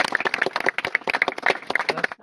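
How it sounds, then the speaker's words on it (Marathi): A group claps together at Raigad Fort, a burst of sharp, uneven hand claps close by, rising and falling through the moment with no talk. "आपण एकदा टाळ्या वाजवायची त्या ठिकाणी"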